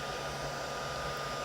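A heat gun blows steadily to dry ink on a paper album page, a continuous close whooshing roar of fan and hot air at an even level throughout, with no voices.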